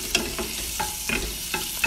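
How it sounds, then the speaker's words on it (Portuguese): Bacon frying in a dry pan with no oil, ahead of a rice dish, crackling steadily with a few sharp pops and spatter bursts, close and alone. "fritando um bacon pra fazer o arrozinho primavera"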